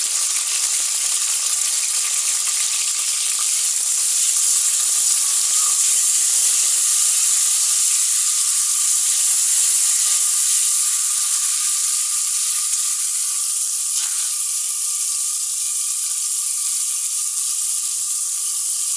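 Onion, garlic and dried fish (chepa) frying in a pan with salt, giving a steady, loud, continuous hissing sizzle that holds evenly throughout, close up with no talk.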